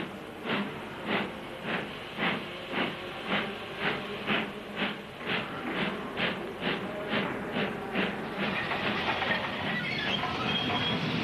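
A steam locomotive at Victoria Station gives a steady, rhythmic run of chuffs with a hissing background, each beat evenly spaced before the sound blends into a continuous rush of steam and rail noise.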